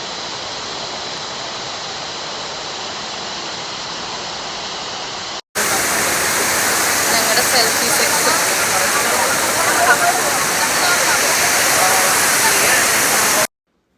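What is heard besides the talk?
waterfall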